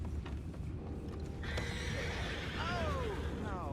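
A horse neighs and whinnies in the open world of Red Dead Redemption 2, a falling whinny rising over a steady low rumble of ambient noise, with hoof clip-clop and a second shorter neigh near the end.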